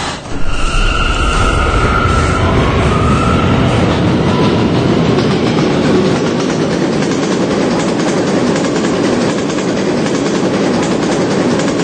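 An R179 subway car on a Catlin-bound K train rumbles along the track in a loud, steady roar with rhythmic rail clatter, a high wheel squeal early on, heard from inside the car.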